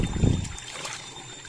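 River water trickles and gurgles close by, a brief soft burble at the start that fades into a low, steady wash.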